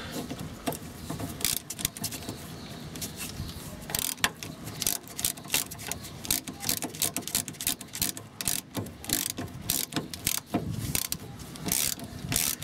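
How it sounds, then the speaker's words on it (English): A spanner and ratchet work on the steering rack coupling nut of a VW T25/T3 van, giving rapid bursts of close, crisp metallic clicks in irregular runs with brief pauses between, alone without talk. "So spanner and ratchet."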